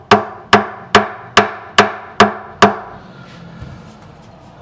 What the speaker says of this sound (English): I'm just going to tap them back using this nylon end of the fretting hammer